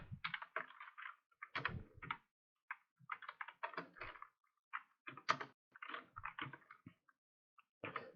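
Java code is typed on a computer keyboard as a short example about data types and variables. It comes through as quick clusters of light key clacks with brief pauses between words, close and clear, with no talking.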